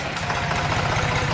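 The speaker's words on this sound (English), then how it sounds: "He's on the tractor, pushing it." A tractor engine runs steadily while the machine pushes, a loud, close low rumble with a fast, even knocking pulse throughout and no voices.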